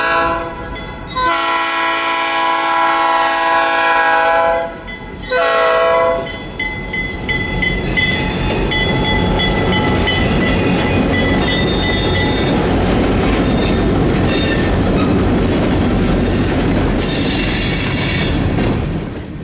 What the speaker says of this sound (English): After hours of spotting Domtar and building their train, PD-19 departs the mill,